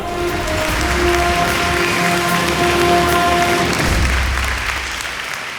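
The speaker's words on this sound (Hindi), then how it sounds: "तो आइए हम सब साथ मिलकर तालियों से स्वागत करते हैं परागी का" Studio audience on a Zee TV show applauding to welcome a guest, a loud, dense wash of clapping that holds steady for several seconds before easing off, with faint music tones underneath.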